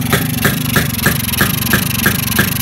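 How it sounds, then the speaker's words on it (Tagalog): A Brutus/HD3 motorcycle engine with an untuned carburetor runs close and loud in a fast, uneven putter. Regular sharp pulses fire at roughly four per second over a constant low drone, with no voices. "Ngayon, naririnig nyo, medyo wala sa tono yung tunog niya, parang sabog na hindi maintindihan."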